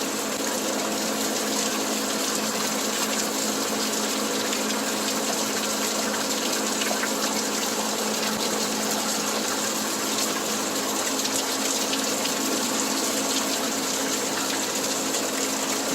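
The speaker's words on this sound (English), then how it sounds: "There's all the water coming down and going in." Steady rushing water pours and gushes continuously, a dense broadband wash with no breaks, as heavy rain runoff at about 100 gallons a minute spills into a poolside channel drain.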